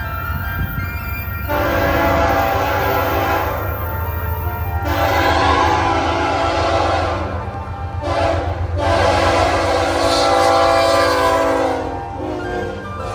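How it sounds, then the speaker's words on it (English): A CP freight train passes close by, its horn blaring in long loud blasts separated by short gaps, over the steady rumble and rattle of rail cars. "So while I was at Isabella Street, I caught 3 trains. CP KC 423,"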